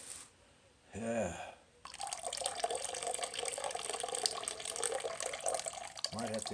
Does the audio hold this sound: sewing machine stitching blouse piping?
no